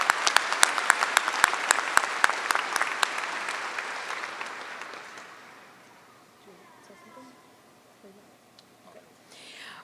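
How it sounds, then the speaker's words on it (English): Crowd at a law school graduation ceremony claps steadily for graduating Juris Doctor candidates, with sharp individual claps standing out early, then the applause fades gradually into a quiet hall with faint murmuring. "or you can clap for them"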